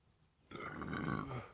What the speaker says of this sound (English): Excuse me, that was a pepper burp.